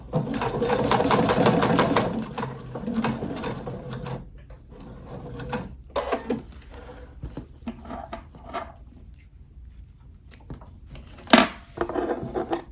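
A sewing machine whirs in a fast stitching burst, pauses, then runs again in short back-tacking spurts on quilted fabric with a zipper, with clicks and fabric handling between; no speech.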